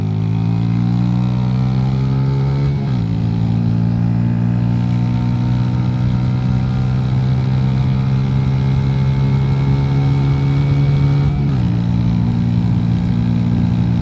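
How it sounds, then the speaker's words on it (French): Mash Black Seven 125cc motorcycle engine running loud and steady at full throttle, its note holding then shifting down in pitch twice as it changes gear, close and continuous with no talk. "On accélère à fond."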